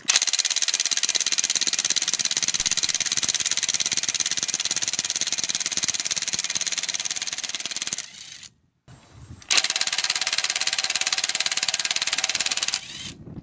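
A Ryobi One+ 18V cordless impact wrench, 400 Nm, set to first speed, hammers a bolt loose through a socket: a loud, dense rattling burst for about eight seconds, a brief stop, then another hard burst, close up and with no talking.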